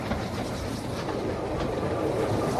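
Steam train freewheeling downhill on a railway, a steady, moderately quiet rolling rumble with faint rhythmic clicks from the wheels, continuous throughout with no voices.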